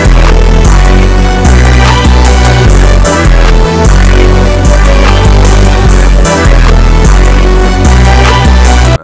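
Hip-hop beat with loud, dense, steady drums, heavy bass and layered melodic parts running throughout with no voices.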